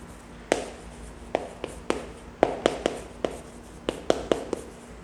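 A hand writes out a math solution, giving a string of sharp, irregular tapping strokes about a dozen times in quick succession, close and clear over a quiet room.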